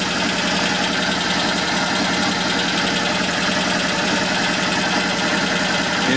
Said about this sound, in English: Engine sounds and runs good.